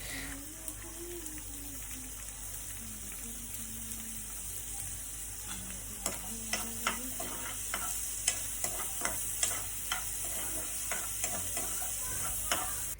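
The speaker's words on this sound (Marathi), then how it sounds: "मागीर कांदो घालपाचो आनी परत चाळ मारपाचो" Chopped onion sizzles in a pan while making spinach bhaji, a steady frying hiss with a spoon scraping and clinking against the pan in repeated strokes; a voice murmurs briefly early on.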